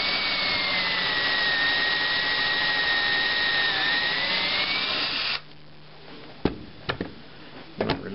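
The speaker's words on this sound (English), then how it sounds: "Take my drill, slide it down into the hole without starting until it touches the wood" A power drill whines steadily for several seconds while boring a pocket hole into wood, then stops, leaving a few light knocks and taps.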